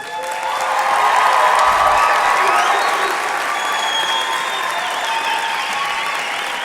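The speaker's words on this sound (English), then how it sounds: "a big round of applause for our graduates" A large crowd applauds steadily at a college graduation ceremony, the clapping swelling quickly and holding at a strong, even level, with faint cheers mixed in.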